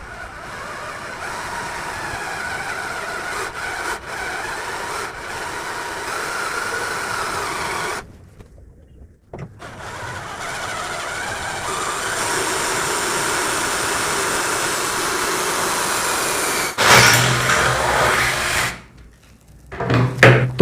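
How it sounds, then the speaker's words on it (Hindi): A budget cordless drill machine, a little underpowered, whirs steadily as it bores, cutting out briefly and restarting with a rougher burst near the end; close and fairly loud with no voices. "चलिए वापस से ड्रिल करना स्टार्ट करते हैं।"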